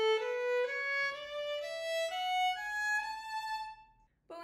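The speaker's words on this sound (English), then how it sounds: "Détaché simply means to change bow directions on every note" A violin played détaché, the bow changing direction on each note, giving a clear series of separate sustained notes in a stepwise rising line, fairly quiet and alone before a brief pause.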